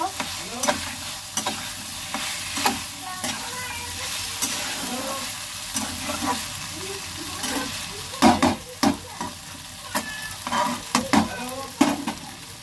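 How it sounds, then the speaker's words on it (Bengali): Pumpkin tipped into a hot pan and stirred while it fries, a continuous sizzle broken by repeated clattering scrapes of a spatula, loudest in the second half, with no voices. "এবার কুমড়োটাও ঢেলে দেবো, দিয়ে ভালো করে নেড়ে নেব"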